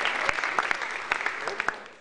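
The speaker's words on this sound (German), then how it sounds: "Die Gäste sandten mit einem kräftigen Applaus Genesungswünsche nach Kreiburg" A crowd of guests at the 70th anniversary celebration of the CSU Mühldorf district association gives a hearty round of applause, a dense, steady clapping with a few sharper claps standing out, heard alone without speech.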